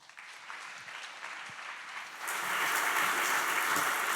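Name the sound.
audience applause welcoming a speaker to the stage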